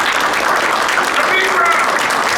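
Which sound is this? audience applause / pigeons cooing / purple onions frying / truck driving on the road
audience applause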